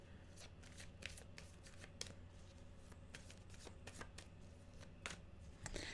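Tarot cards being shuffled by hand: a steady run of crisp riffling and flicking bursts over several seconds, close and fairly quiet, with no talking.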